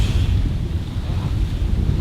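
Steady rush of ocean waves washing onto a shore, with heavy wind buffeting the microphone throughout, a continuous broadband roar with no voices.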